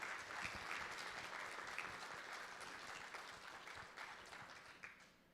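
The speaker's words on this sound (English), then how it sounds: "Please give yourselves a big round of applause" An audience at a charity fundraiser breakfast applauds, a faint, distant patter of many hands that holds steady and then slowly tapers off.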